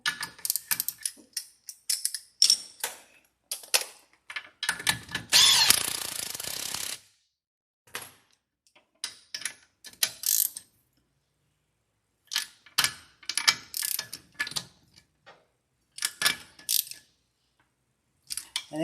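Socket ratchet tightening the 7/16 fine-thread stud nuts on a Mercruiser Alpha One Gen 2 sterndrive, heard as close, intermittent bursts of clicking with short pauses between strokes and a longer grinding run early on.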